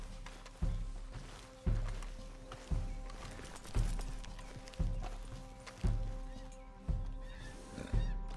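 A horse in the video game Red Dead Redemption 2, its hooves giving a steady, regular clip-clop under a low hum of game ambience, with a whinny from the animal.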